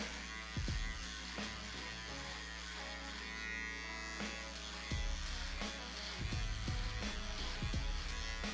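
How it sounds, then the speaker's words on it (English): An electric shaver buzzes steadily on the neck during a low skin fade haircut, a constant close hum broken by a few sharp clicks and bumps as the blade moves against skin. "now I'm getting the shaver right here"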